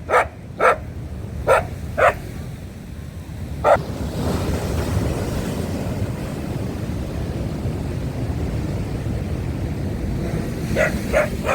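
Rough, stormy Black Sea surf roars steadily with gusting wind at Odesa, and a dog barks sharply several times before and after the waves swell.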